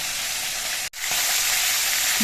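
Pomfret fish fry in hot oil in a large wok with a steady, close, loud sizzle, briefly cut off for a moment before the crackling resumes.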